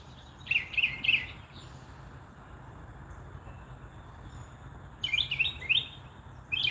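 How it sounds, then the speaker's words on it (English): Birds chirp and tweet in a morning setting, two bursts of short bright calls, one early and one late, over a steady low background hum. "Birds are singing this morning,"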